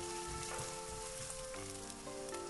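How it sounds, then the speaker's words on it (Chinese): Minced meat stir-frying in hot oil with chopped scallion and ginger, a steady close sizzle with faint scraping of a spatula, continuous throughout and no talking; background music tones run underneath. "再把葱姜末加进来， 翻炒出香味。"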